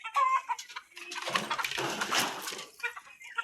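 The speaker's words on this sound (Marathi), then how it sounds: "लय कोंबड्या आहेत यांच्यात." Chickens cluck and squawk in a burst that swells to a noisy, crowded peak midway, then trails off into scattered clucks.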